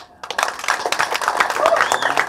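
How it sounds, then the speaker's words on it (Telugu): Audience applause at a film teaser launch event, a dense wash of clapping that swells gradually and holds steady, close and fairly loud, with faint voices mixed in. "ఇప్పుడు ఈ చప్పట్లు కొడితే వినపడుతుంది"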